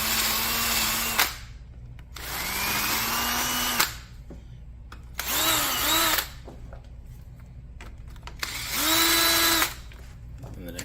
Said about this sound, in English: So I'm just going to run a drill down it.